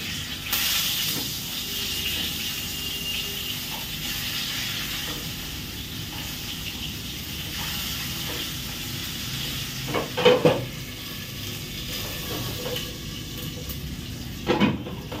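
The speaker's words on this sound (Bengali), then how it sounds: "মাছটা এদিকে ভাজা হোক" Steady crackling sizzle of fish frying in hot oil, continuous throughout, with a couple of louder clatters from utensils partway through, made while preparing fish curry.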